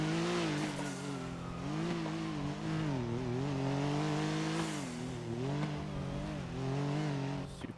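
Supercars in the GTA NoPixel role-play game drive past in a sustained, fairly faint engine drone. The pitch rises and falls repeatedly as the cars accelerate and shift.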